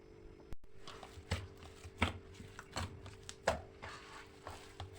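Hands working flour into içli köfte dough, soft irregular slaps and squishes repeating every half second or so, close and quiet with a low background hum and no talking.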